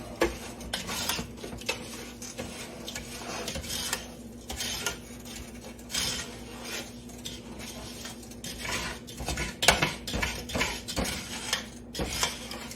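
A spatula scrapes and stirs thick caramel cake icing in a pot: a steady run of close metallic scrapes and rubs that keep a loose rhythm.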